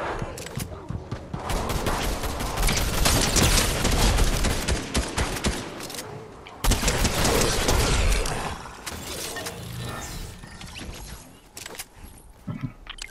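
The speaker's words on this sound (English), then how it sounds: "I got gunfire coming from this way." Dense, continuous bursts of rapid gunfire in the video game Fortnite rattle on for several seconds with brief pauses, loud and close, with faint voices underneath.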